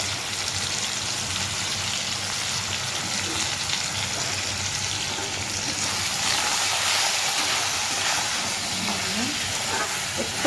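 Potatoes with salt and turmeric frying in oil for a rohu fish curry give a steady, broad sizzling hiss that runs continuously throughout, with no speech.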